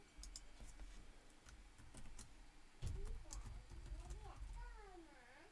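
Keys tapped on a computer keyboard to enter a 12-digit VAT number, heard as quiet, scattered clicks over a low background hum.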